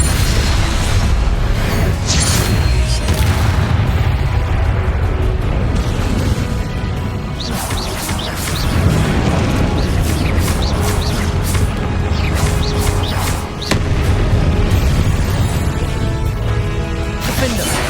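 Spell blasts from Confringo and Depulso in Hogwarts Legacy combat, a dense run of loud booming bursts and crashes layered over continuous battle noise, with shouted incantations mixed in.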